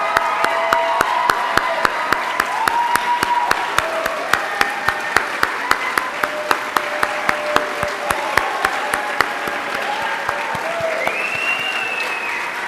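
A youth camp awards ceremony audience gives a long round of applause, many hands clapping in a dense sustained roll with a few sharp individual claps standing out, plus faint cheers and murmuring voices.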